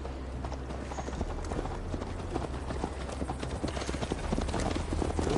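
Horse hooves clip-clop steadily as Eivor rides in Assassin's Creed Valhalla, a close, rhythmic gait running throughout over a low ambient bed, with a horse briefly whinnying.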